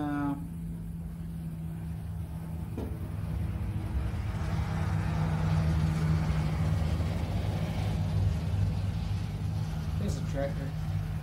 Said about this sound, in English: There's a tractor.